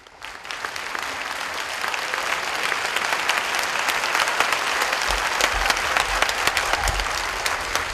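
Warm welcoming applause from an event audience, a dense continuous wash of many hands clapping that swells in the first second and then holds steady and full, with no voices over it.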